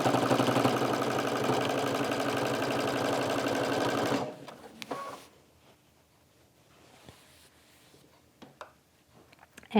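A sewing machine stitches a quilt in a quilt-as-you-go join, running loud and steady for about four seconds before stopping, followed by quiet handling clicks and rustles.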